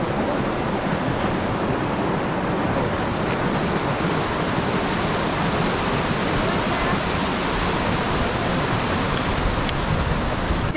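River rushing beneath a wooden bridge on the Torean trail in Lombok, a continuous dense wash of flowing water, loud and close, with no voices over it.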